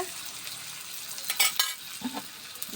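Shrimp and chopped tomatoes stirred in a hot frying pan, a steady low sizzle with a few louder scraping stirs and clinks near the middle and end, no talking.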